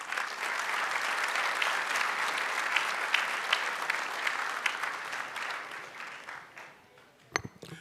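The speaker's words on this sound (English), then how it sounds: "Mr. Matthews, let's give him a round of applause." Crowd applause at an awards gala, broad and steady clapping from a large audience that gradually thins and fades out near the end, followed by a couple of sharp bumps.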